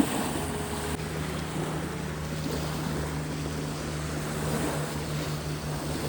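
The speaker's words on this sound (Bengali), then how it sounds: "এই যে একটা বোট, এখানে মাছ ধরছে।" A fishing boat's engine drones steadily at sea off a beach, a constant low hum with wind and waves washing around it throughout.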